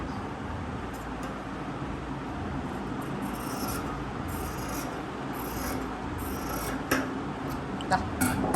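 Fabric for a kurti's neckline is cut close by in a steady, continuous rasping and rubbing that holds throughout, with a couple of small clicks near the end and no talking.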